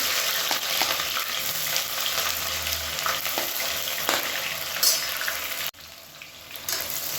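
Onions sizzle steadily in hot oil with spices for chicken or mushroom biryani, giving a dense, continuous frying hiss with stirring scrapes and a brief drop in level near the end.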